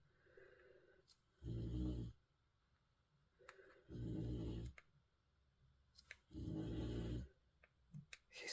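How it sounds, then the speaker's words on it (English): A dog snoring loudly nearby in a quiet workshop room, three long rumbling snores spaced a couple of seconds apart with faint clicks and small sounds between, no talking. "I don't know how you guys put up with her snoring"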